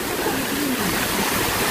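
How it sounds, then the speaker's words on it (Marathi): A waterfall at Harishchandragad rushes in a broad, steady roar of falling water, close and loud for a brief moment. "मस्त धबधबा."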